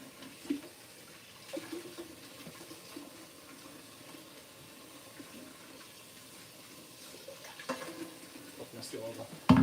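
Tap water runs into a kitchen sink during late-night dishwashing, a soft steady trickle with faint clinks and scrapes of dishes, fairly quiet throughout.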